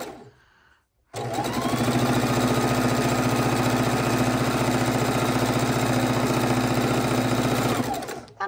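A sewing machine stitching fabric scraps together for quilt blocks starts after a short quiet moment and then runs in one continuous, fast, even mechanical whirr for about seven seconds before stopping.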